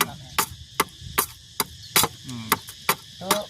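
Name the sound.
hammering nails into wood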